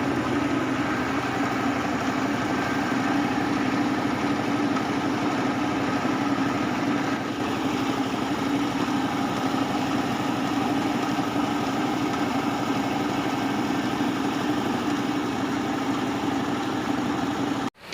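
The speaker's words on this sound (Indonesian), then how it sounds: "ternyata mesin polesnya N70 ini alhamdulillah sekarang sudah tidak muncrat lagi" Modified N70 rice polishing machine at a rice mill, driven by a 16 PK engine, running with a loud, steady, continuous drone and mechanical hum throughout, with no talking.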